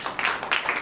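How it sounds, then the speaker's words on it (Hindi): A church congregation claps in a short burst of applause, several loud swells of hand clapping within under a second. "पाक रूह के लिए जोरदार ताली।"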